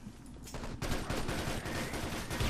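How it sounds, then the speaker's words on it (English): Rapid hyper blaster gunfire in a 5v5 competitive video game match, a dense, continuous, loud burst of shots and explosions with no pause. "Mechanical working his magic with a hyper blaster."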